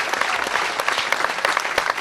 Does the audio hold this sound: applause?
yes